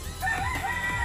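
A rooster crows among chickens, one drawn-out call standing clearly over low clucking and background noise.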